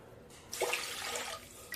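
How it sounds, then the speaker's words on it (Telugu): Water poured from a vessel into a pressure cooker sitting on a stovetop: a short splashing pour of about a second, close and fairly quiet, with no voices. "స్టవ్ ఆన్ చేసి కుక్కర్ పెట్టుకొని అందులో కొన్ని వాటర్ వేసుకోవాలి"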